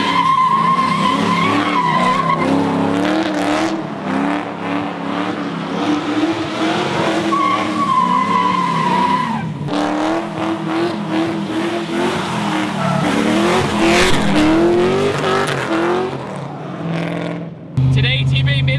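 A Nissan 240SX S14 drifts hard, its engine revving and dropping in repeated surges while the tires squeal and skid in long wavering howls, loud and close throughout, ending with a brief low thump.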